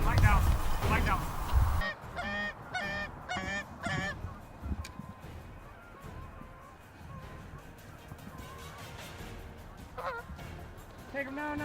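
Canada geese honk repeatedly during a goose hunt, loud close calls at first, then scattered honking continuing at a distance amid outdoor rustle, with hunters' voices mixed in.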